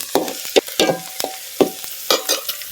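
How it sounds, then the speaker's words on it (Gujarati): Chopped onion and garlic frying in a pan for khichdi, with a soft sizzle under repeated sharp scraping stirs of a spoon at an uneven rhythm, close and moderately loud. "અત્યારે છે ને ગાઈસ આપણે ડુંગળી કાપીને એવું બધું નાખી દીધું છે, લસણ ને એવું."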